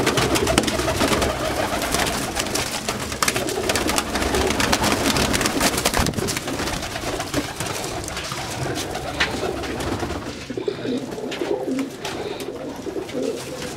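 Pigeons kept in a breeder's cage coo repeatedly and close by over a dense, steady rustling background, with no voices.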